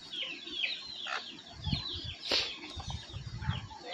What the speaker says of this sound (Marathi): इथे आपल्या कोंबड्या आहेत